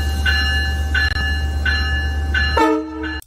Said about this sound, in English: Like, you over here filming a train.